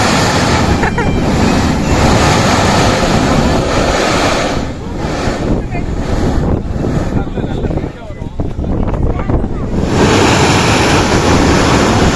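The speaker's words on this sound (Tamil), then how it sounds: "இப்போதான் ப்ளோவர்லேருந்து வெயிட்டாக தண்ணி வந்திருக்கு" Sea water surging from a blowhole at Salalah, Oman: a loud, steady roar of rushing surf and spray with heavy wind buffeting the microphone, swelling and easing around the middle of the stretch.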